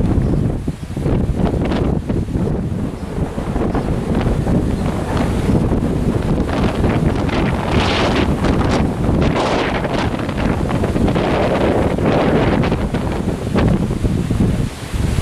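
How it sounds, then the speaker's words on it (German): Strong storm winds gust beneath a shelf cloud near Kerken, roaring as loud, constant broadband buffeting across the microphone, with surges and no speech. "Wir kommen jetzt unter den Böenkragen."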